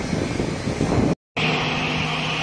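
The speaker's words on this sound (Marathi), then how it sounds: "हा प्लेन आता टेक ऑफसाठी रेडी आहे इथे. आणि ते आवाज खूप येतोय हा." An airplane waiting at the airport, ready for takeoff, produces a loud, steady engine roar that cuts out for a brief moment and then resumes.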